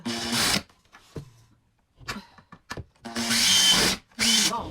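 A Makita drill drives screws into wood during a DIY wooden kitchen table build, giving loud, close whirring bursts: one near the start, a few short ones in the middle, then two longer runs.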